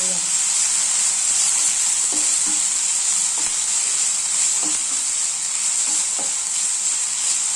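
Potatoes and curry leaves fry in a pan with a steady, close sizzle, while a spoon scrapes and stirs in scattered soft knocks through the hiss.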